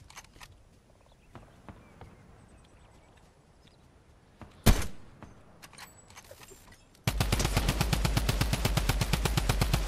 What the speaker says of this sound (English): this gun has some terrible recoil